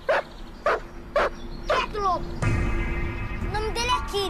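A dog barks four times in a steady rhythm, sharp and fairly close, before people start talking and the barking stops.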